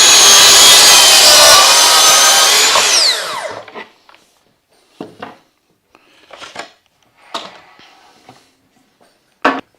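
A cordless saw cuts wood with a loud, close, high buzzing roar that runs for about three seconds and then winds down, followed by scattered knocks and handling sounds of the cut pieces.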